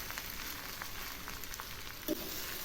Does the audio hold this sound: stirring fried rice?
yes